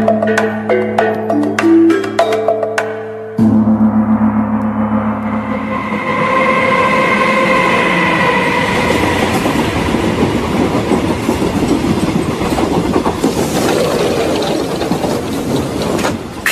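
A train runs on rails as a sound effect in a Bengali suspense audio story: brief tonal music opens, then a loud, steady rolling rumble with rhythmic clickety-clack continues throughout, with no voices.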